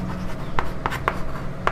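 Chalk or marker strokes on a classroom board while a Class 8 math problem is worked out: a few short, sharp scratchy taps spaced irregularly over a steady low hum, with no voices.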